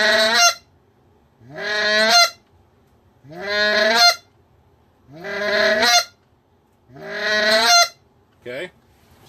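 A human voice imitates a goose with a rough, gravelly honk, repeated five times in a steady rhythm with short pauses, plus a brief clipped sixth at the end, loud and close with no other sound.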